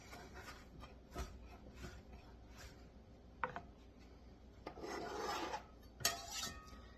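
A knife cuts bacon into small pieces on a board, giving quiet scraping and rasping strokes with a few soft taps, close and faint with no talking.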